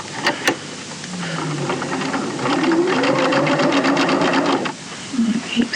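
A sewing machine stitches a piped seam with piping cord, running in a steady rapid whir for several seconds after a few clicks, then stopping, while a voice talks over it.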